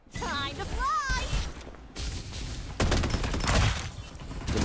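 Gunfire in Farlight 84 breaks out in dense rapid bursts after a short stretch of game sounds, loud and close, with a player talking over the action.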